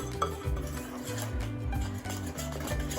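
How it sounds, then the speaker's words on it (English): A spoon scrapes and clinks against a bowl while stirring flour mixture into creamed butter, sugar, egg and vanilla, quick rhythmic strokes close by with soft tapping. "we're going to add our flour mixture back into this butter and sugar egg vanilla mixture. So we stir, stir, stir."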